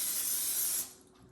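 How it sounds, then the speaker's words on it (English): Cooking oil sprayed onto potatoes for an air fryer, one steady close hiss lasting just under a second, then cutting off into quiet. "we'll put some spray oil on it because it needs some oil to cook"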